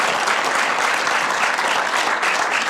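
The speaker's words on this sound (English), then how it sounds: "may we have a warm round of applause for our guest, Ragy" Warm, dense applause from an audience for a CEO guest after a conversation event, close and steady throughout with no talk over it.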